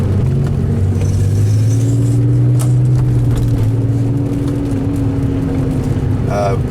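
A 1990 Porsche 911 (964) Carrera 2 Targa Tiptronic drives along, its engine humming steadily and rising in pitch as it shifts, heard from inside the cabin while someone talks over it.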